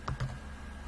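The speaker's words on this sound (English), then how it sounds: "I can honestly just type this." Two quick keystrokes on a computer keyboard while code is typed into an App Inventor project, crisp and close, followed by a faint steady room hum.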